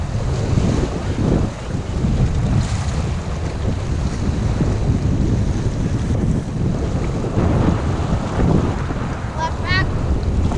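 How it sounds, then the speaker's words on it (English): Strong gusty wind buffets the microphone aboard a boat on a racecourse training run, a loud continuous roar mixed with water and wave wash, with faint voices underneath. "Man, the wind's killing us. The wind suddenly came up."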